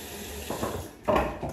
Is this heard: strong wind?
no